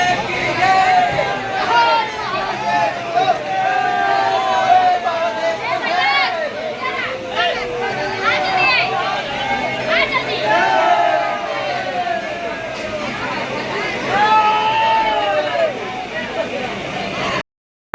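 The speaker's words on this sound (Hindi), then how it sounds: "बाहर आते ही बहुत ज़्यादा भीड़ दिखाई दे रही है।" Large crowd of pilgrims at a temple during Maha Kumbh on Mahashivratri in Prayagraj, a dense, continuous babble of many voices close around, with shouts and movement throughout.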